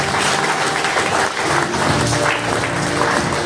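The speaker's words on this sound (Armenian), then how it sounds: "Եկեք ծափահարենք ժողովուրդ։" An audience applauds at a commemorative gathering honoring families of fallen soldiers, with dense, sustained clapping from many hands that stays loud and even for several seconds.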